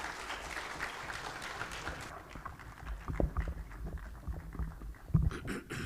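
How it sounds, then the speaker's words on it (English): Clapping from an audience at a general assembly of the African Organization for Standardization, a dense, steady patter of hands that thins after a couple of seconds into scattered claps and a few thuds. "A hand of applause, please."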